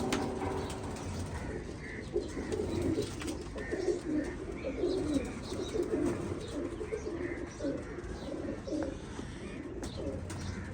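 Racing pigeons coo softly in a loft, low repeated burbling calls forming a steady background, with occasional chirps and faint wing flutters nearby.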